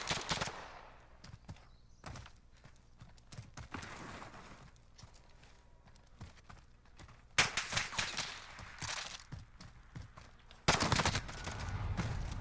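Pistol and shotgun fire in Call of Duty Modern Warfare, an M19 pistol against an underbarrel shotgun in a 1v1 match, with scattered quick bursts of shots and louder clustered blasts near the end, fairly faint overall.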